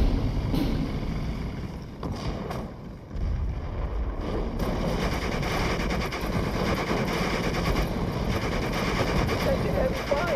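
Heavy gunfire and rumbling battle noise from a war video game, a dense, loud, continuous roar with rapid crackling bursts that fills the whole clip.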